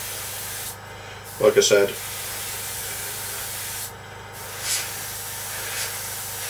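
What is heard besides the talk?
spraying a coat of varnish on a model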